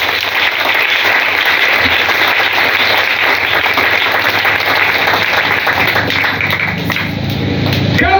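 Church congregation applauding and cheering in a sustained, dense wash of clapping that fills the whole stretch, with voices mixed in the crowd noise.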